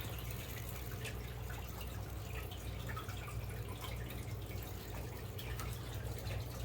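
Water poured off a whitework culture substrate, a soft continuous trickle and splash with faint drips, steady and close, with no voices.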